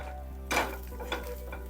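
A millet-spinach thalipeeth is flipped onto its other side in a pan, with a quick scrape followed by a soft, steady sizzle of roasting up close, no voices.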